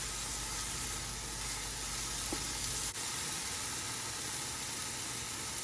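Ginger frying with vegetables in a pan gives a steady, soft sizzle that is close and fairly quiet, with a faint clink partway through and no talking.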